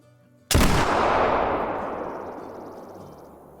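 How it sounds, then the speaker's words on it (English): A single loud muzzleloader rifle shot fired at a buck at about 200 yards in the hunting video game Call of the Wild, with a sharp crack followed by a long, slowly fading rumble and no talking. "we're gonna take kind of a far shot. Looks like a 200-yard shot."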